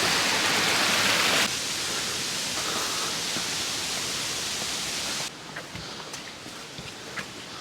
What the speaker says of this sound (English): That walk just came to the top of Junction Falls, and there it is, all flowing off the edge.